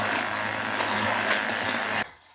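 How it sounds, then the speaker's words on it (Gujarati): A hand blender whirs steadily through thin chorafali batter, a loud, even motor buzz that runs for about two seconds and then stops abruptly. "હેન્ડ બ્લેન્ડરથી આપણે એને બ્લેન્ડ કરી દઈશું"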